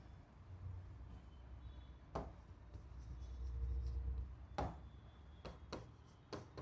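Chalk or marker writes on a board during a maths mensuration lecture: faint scratchy strokes in short bursts with sharp taps between them, in a quiet room with no talking.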